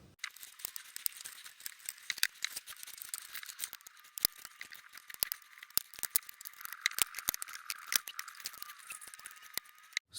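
A Steam Deck case is pried open with a spudger, giving a scattered run of sharp, close plastic clicks and crackles, some louder snaps among fainter ticks, with no voices.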